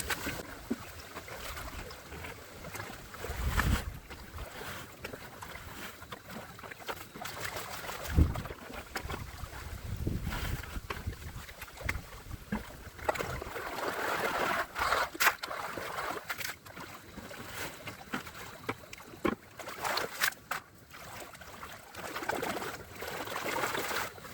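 Water runs steadily through a gold prospecting sluice with a lower tray and a gold gutter, washing sand out the back; a continuous rushing wash with a few louder splashes, nearby and without speech.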